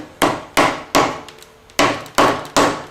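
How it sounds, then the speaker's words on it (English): Six firm hammer blows seat a bearing cap on an MGB engine bottom end during a rebuild, loud sharp metallic hits spaced about half a second apart with a short pause mid-sequence, close and without talk. "So I like to hit it with nice firm hits."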